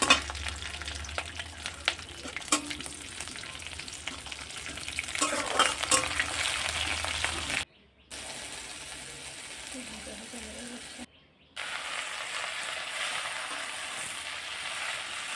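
Nigella seeds, dried red chillies, whole garlic and green chillies frying in hot oil, a crackling sizzle with spoon stirring that cuts out briefly twice, with faint speech in places.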